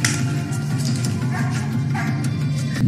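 A dog barks and yips in a scene from the 2014 film John Wick, heard as short repeated yelps and whimpers over the movie's soundtrack while people watching talk over it.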